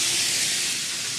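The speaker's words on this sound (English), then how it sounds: "You see it sizzling, cooking, it's going to get a good sear." A flat iron steak on a Yoder grill grate right over the fire sizzles as a steady, close, loud hiss that holds without a break.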